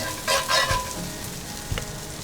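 Vegetables and beef brisket fry in a pan for a summer barbecue brisket, giving a steady close sizzle with a few brief clinks and stirring sounds and no talk.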